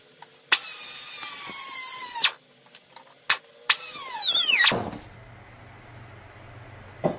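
A cut-off wheel slices through metal while a VW engine oil pickup tube is being installed. Two loud, shrill grinding bursts of about two seconds and one second each are followed by a low, steady hum.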